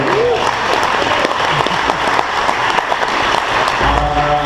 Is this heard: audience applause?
yes